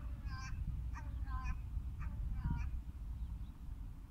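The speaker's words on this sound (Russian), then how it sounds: "Ворона издает звуки Аллах" A crow cawing along a coastal shoreline at Balkhash, several short harsh calls in a loose rhythm, fairly faint over a heavy low rumble of wind or water.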